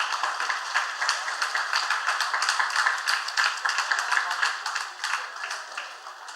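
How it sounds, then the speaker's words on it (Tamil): A Tamil social welfare association's anniversary audience claps loudly in thanks, a close, bright and rhythmic burst of many hands that pulses steadily for several seconds with no speech over it. "அனைவரும் ஒருமுறை பலத்த சத்தமா கைத்தட்டி"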